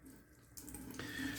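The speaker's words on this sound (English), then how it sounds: "I'm gonna add a little bit of water" Tap water runs faintly into a sink while shaving soap is lathered, a soft continuous splash that swells slightly toward the end, with no voices.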